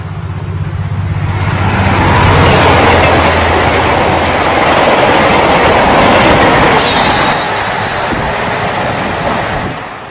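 A suburban train rolls past with loud metal-on-metal wheel noise, rumbling and rattling, with brief high squeals cutting through.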